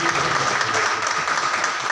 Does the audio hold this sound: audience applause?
yes